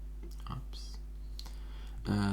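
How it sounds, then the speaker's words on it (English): Mouse clicks while working in Bluebeam Revu software, a few soft, sparse clicks close by amid quiet speech, ending in a louder burst of sound. "so I'm just going to click my way through here"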